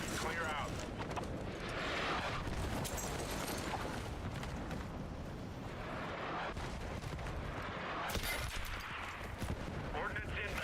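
Battlefield 6 battle royale combat with a continuous dense barrage of airstrike explosions and rapid gunfire, heavy rumbling booms swelling repeatedly over about ten seconds, with voices faintly underneath.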